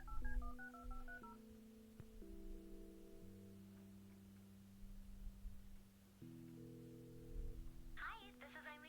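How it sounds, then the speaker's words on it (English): Touch-tone keypad dialing in the video game Kathy Rain: a quick run of distinct beeps opens, then longer steady ringback-style tones hold through the middle, ending with a brief click and faint voice-like sounds. "There was an option on the phone to call our dorm."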